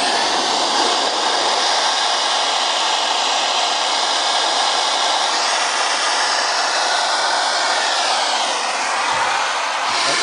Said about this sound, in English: Now we're ready to blow down the boiler, and the blow down valve's just slightly aft of the centre drivers.